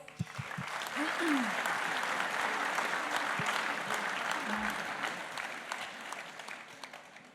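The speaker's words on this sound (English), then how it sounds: "Another round of applause." Audience applause at a BIGGA celebration evening, steady clapping from a room full of people with a few murmured voices underneath, sustained before tapering off.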